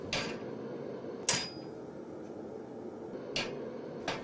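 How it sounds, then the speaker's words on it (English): A hammer strikes hot iron while forging a decorative dragon head, landing sharp metallic blows at about 0.2, 1.3, 3.4 and 4.1 seconds over a low, steady forge rumble. "And be constantly using the hammer to dress up the face."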